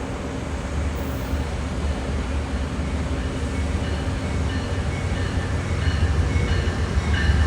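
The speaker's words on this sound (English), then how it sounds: "Now arriving on track 2 and Amtrak ALC42." An Amtrak train led by an ALC42 locomotive arrives on track 2 at a New Haven Line station, giving a steady, loud rumble of wheels and rail noise that builds slightly toward the end.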